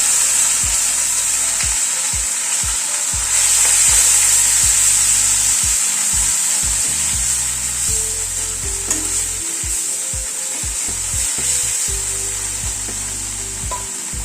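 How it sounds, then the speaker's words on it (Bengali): Sesame and coconut paste frying with lightly fried ginger in a pan for a potol dish, a loud continuous close sizzle with occasional stirring scrapes and knocks throughout. "আদাটা হালকা ভাজা হওয়ার পরে এই তিল আর নারকেলের পেস্টটা দিয়ে দিলাম।"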